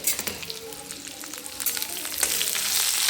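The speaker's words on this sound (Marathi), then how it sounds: "आता हे कांदा चांगला भाजून घेऊ आपण" Chopped onions frying in hot oil in a pan, a dense crackling sizzle with quick spatters, rising slightly toward the end, close and alone.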